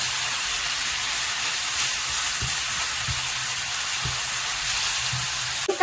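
Dried tofu skin stir-fried in oil with annatto oil, a loud continuous sizzle with soft rhythmic scraping strokes of stirring underneath.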